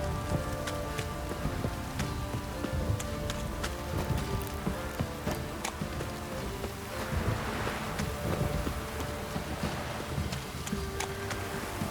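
Steady rain falls in The Witcher 3: Wild Hunt, a dense continuous patter of drops on surfaces with scattered sharper splashes and a faint breeze, constant and close throughout, with no talk.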